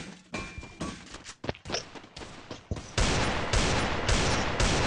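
Gunfire in a multiplayer shooting video game: scattered sharp shots and thumps at first, then a dense, sustained barrage of rapid fire that stays loud to the end.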